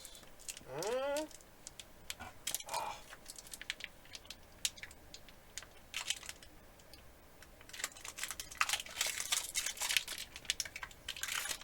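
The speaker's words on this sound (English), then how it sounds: "Okay, I'm just peeling the foil off now." Foil being peeled off a food packaging container in a gold subscription box gives close, scattered crinkles and crackles that thicken toward the end, with a brief voice near the start.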